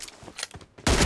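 Gunfire in a first-person shooter: a few quick sharp shots followed by a loud, dense burst at the end, close and brief.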